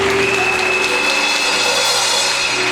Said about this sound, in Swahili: Sisi tuwapigie makofi mazuri kwa leo